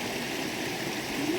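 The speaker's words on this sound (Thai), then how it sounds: "น้ำไหลผ่านกลางบ้านเลย" Water flows steadily through the middle of a tribal village in Sepon, Savannakhet, Laos, a constant rushing, gurgling wash heard close and unbroken throughout, with no voices.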